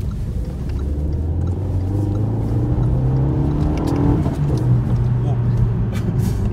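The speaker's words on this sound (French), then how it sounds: "Prends à gauche et accélère à fond frérot." A Renault Megane RS accelerating hard at full throttle, its engine note rising steadily in pitch as it pulls, heard from inside the car while people talk over it.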